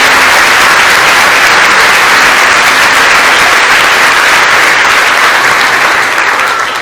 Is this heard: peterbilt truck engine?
no